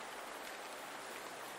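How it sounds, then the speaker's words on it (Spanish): Steady rain falls through a bamboo forest, a dense, even hiss of drops with no pauses and no voices. "Mientras la lluvia te purifica"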